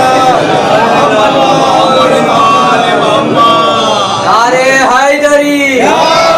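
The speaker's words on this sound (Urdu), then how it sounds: "ایک سلوات پڑھیے سب مل کر." Large crowd at a Shia religious gathering chanting salawat together in unison, loud and reverberant voices rising into a swelling collective chorus with drawn-out tones toward the end.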